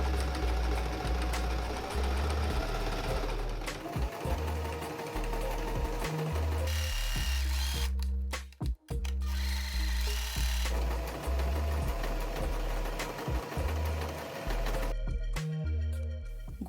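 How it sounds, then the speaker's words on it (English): A sewing machine runs a straight stitch joining fabric pieces right sides together, a steady close mechanical whir with a rapid rhythmic pulse, pausing briefly around the middle and again near the end before resuming. "we are going to start sewing right sides together, straight stitch"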